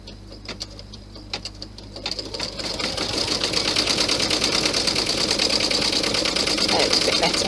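A sewing machine stitching down the strap of a fabric Santa bag, starting with a few separate stitches and then running into a fast, steady close-up whir and rapid clatter that carries on to the end.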